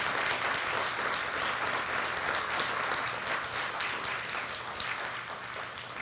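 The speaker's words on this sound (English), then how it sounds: "give them a big round of applause one more time" An audience applauds loudly and continuously, many hands clapping in a dense wash that fades only slightly toward the end.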